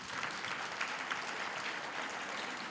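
An audience at a university graduation ceremony applauds the choir, a steady, even wash of many hands clapping at moderate distance with no single claps standing out, sustained throughout.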